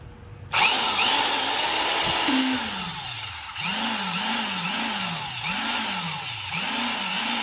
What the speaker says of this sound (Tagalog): So, ito yung concrete vibrator.